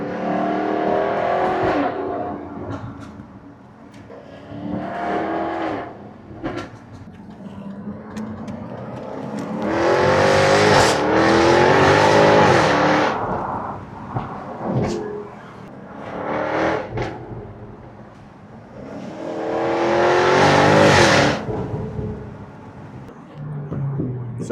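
Hypercars at a UK hypercar event rev hard in repeated loud bursts, engines climbing and falling in pitch as several surges of acceleration rise from a quieter idle, close by.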